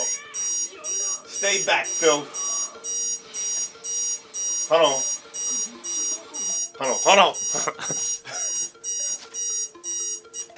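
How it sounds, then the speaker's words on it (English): An alarm clock going off, with repeated electronic beep bursts in a steady rhythm throughout, sounding under anime dialogue and someone talking. "my alarm clock going off"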